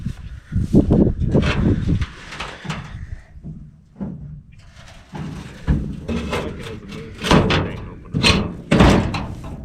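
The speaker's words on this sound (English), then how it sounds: "Door won't open on the passenger side either." Someone works at the stuck passenger-side door of an old hot-rod truck, making a series of close metallic clunks, rattles and tugging thumps spread irregularly over several seconds.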